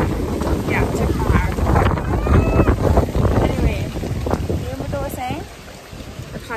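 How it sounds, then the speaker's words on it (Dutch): Wind gusting outdoors at a riverside or waterside spot in rural Suriname on a rainy day, a steady rumbling roar buffeting the microphone throughout, with people talking nearby over it. "check hoe de wind waait"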